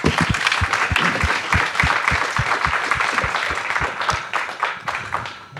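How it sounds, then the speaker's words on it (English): Steady audience applause at a live-streamed comedy show, a dense continuous patter of clapping lasting several seconds with a regular, rhythmic thumping pulse underneath, loud and close with no talk over it. "A round of applause, please."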